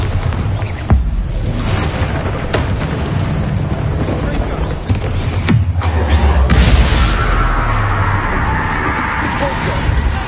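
A Bombarda blast spell in Hogwarts Legacy sets off a loud, roaring explosion that fills the whole clip, with sharp bursts and booms over a dense rumble and a voice calling out in the mix.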